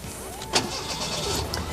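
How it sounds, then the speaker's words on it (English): A cold 1985 Ford Thunderbird Turbo engine is started with the key: a short cranking burst catches quickly, then settles into a smooth, steady idle heard close up without talk. "the engine starts without depressing the accelerator pedal, even when the engine's cold"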